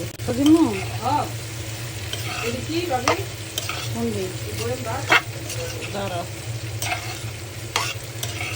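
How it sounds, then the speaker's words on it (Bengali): Spices (turmeric, chili and coriander powder) frying with boiled greens for a red amaranth sour dish, stirred in a pan with a steady sizzle and repeated scraping strokes, while a voice talks over it throughout. "ভালো করে একটু কষিয়ে নেবো"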